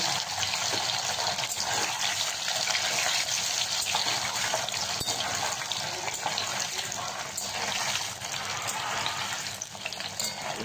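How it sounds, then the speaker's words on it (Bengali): Paneer cubes fry lightly in a pan for restaurant-style chilli paneer, giving a steady, close, dense sizzle that hisses evenly throughout with no break and no talking. "হালকা করে ভেজে নেব।"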